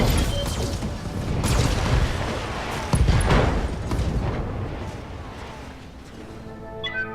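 Mech weapons firing together in the Battletech video game, a dense volley of booms and crashing impacts with a heavy hit near the middle, fading into rumbling debris.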